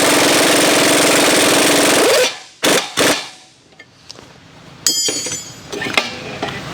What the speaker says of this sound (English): got my impact on. Now we should be able to just hammer it and draw this on out.